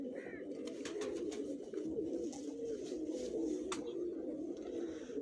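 Pigeons on a rooftop in Lahore keep up a faint, continuous low cooing and murmuring, with scattered brief clicks and rustles over the top.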